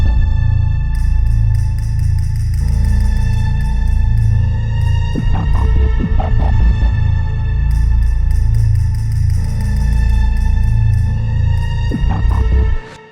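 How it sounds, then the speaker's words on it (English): Layered untuned percussion stick hits drenched in wide, wet reverb, sitting inside a sustained humming synth pad with a cluster of sharp clicks around the middle and again near the end. "the F on this higher octave is this little stick hit sound"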